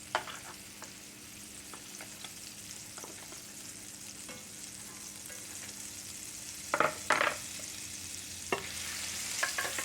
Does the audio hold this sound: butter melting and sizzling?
yes